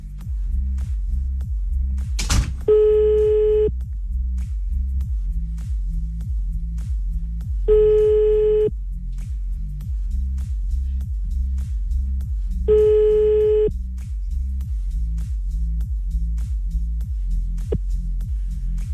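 A phone line rings out three times at even intervals over a steady throbbing music bed, as a French evening radio show calls a listener back on air, each ring a clear, moderately loud tone.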